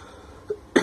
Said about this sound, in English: Something in my throat making me cough